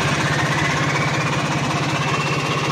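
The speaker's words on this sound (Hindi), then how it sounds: "ये बड़की हल्की सिटी की आवाज़ आवे क्योंकि इसमें ओरिजिनल सिलेंसर नहीं चढ़ रहा" A Swaraj tractor diesel engine fitted with a turbo and lacking its original silencer runs steadily and loudly, a continuous close rumble with a fast pulsing knock and a faint whistle on top, no talk.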